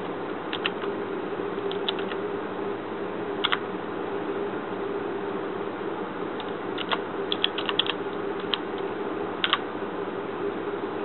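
Keys clatter on a computer keyboard as a password is typed during a network router login, scattered clicks in short bursts over a steady room hum.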